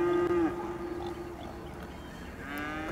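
Cattle moo in the Cities Skylines game, two long echoey bellows, one at the start and another near the end, with a faint steady tone between and no voices.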